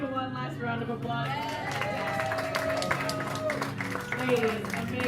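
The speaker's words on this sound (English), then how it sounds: "Let's give it one last round of applause." Applause and crowd noise from an audience at a community clay jewelry exhibit and runway show, a steady dense wash of clapping with murmuring voices throughout.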